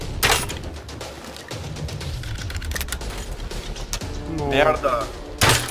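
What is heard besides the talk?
gunfire in the video game Rust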